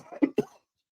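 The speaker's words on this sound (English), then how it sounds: "I have this lingering cough and it won't go away." A man gives a short double cough, two quick rasping bursts close to the microphone, followed by silence.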